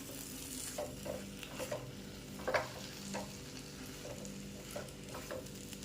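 Mixed vegetables for veg kolhapuri are stirred and sautéed in a pan. A soft, steady sizzle sits under irregular scraping and clinking spoon strokes, with one louder clatter partway through.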